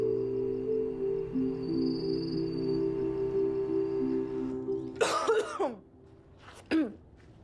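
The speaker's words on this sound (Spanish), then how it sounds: "¿Sigues tosiendo?" A woman coughs a few times, a short burst of hacking followed by one more cough after a pause, over a quiet background with a steady low hum.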